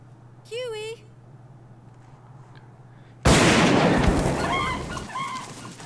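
Birds in the Haunting Ground video game: a brief rising chirp early on, then a sudden loud burst of flapping noise with several shrill squawks repeating over it.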